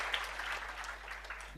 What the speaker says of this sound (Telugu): మీకు అర్థమైంది, చప్పట్లు కొట్టండి.